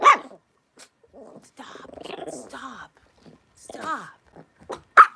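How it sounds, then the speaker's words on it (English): Several dogs barking and growling indoors at owls outside, sharp barks at the start and end with rumbling growls between, loud and close, mixed with a person's voice talking. "They're barking because there's like 10 owls outside there."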